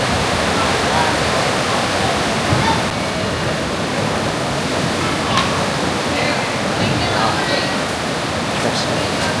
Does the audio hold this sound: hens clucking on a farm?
no